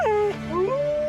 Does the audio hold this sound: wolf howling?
yes